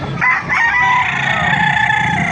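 A rooster crows loudly and nearby at a busy chicken market in Baliuag, Bulacan, one drawn-out call rising over a murmuring background of other fowl.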